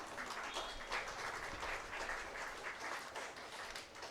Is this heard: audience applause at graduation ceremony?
yes